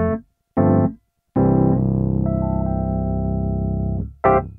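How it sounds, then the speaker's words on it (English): Universal Audio's Electra 88 plugin, an emulation of a Rhodes electric piano, plays warm, bell-toned chords and a short phrase of notes, clear and alone with a sustained middle chord. "which is kind of an emulation of the Rhodes keyboard."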